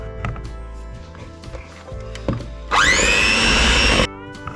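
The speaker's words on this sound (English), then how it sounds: "just whisk that together until it's combined" Soft kitchen clatter leads into an electric mixer whisking Kinder cheesecake mixture in a bowl, a loud whirring burst of just over a second before it cuts off.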